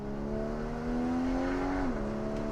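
2015 Porsche Cayman GTS with PDK gearbox under full throttle in Sport Plus, a steady engine drone rising slowly in pitch before dropping sharply at a gear change, heard from inside the car.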